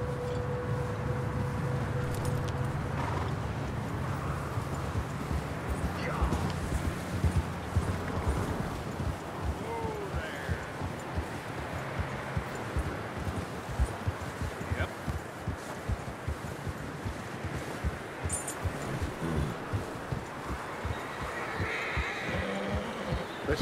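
In Red Dead Redemption 2, hooves clop steadily on hard ground while horses snort and neigh now and then, all under a dense, continuous ambient wash.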